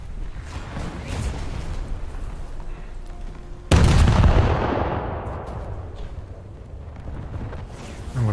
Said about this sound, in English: Those are the 5-inch guns from the Nevada, I think.